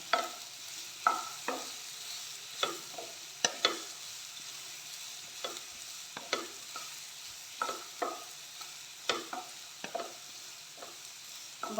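Roasted vermicelli is stirred and warmed in a pan, giving a soft steady hiss under a regular series of scraping, tapping stirs roughly once a second, close and moderately quiet with no voices.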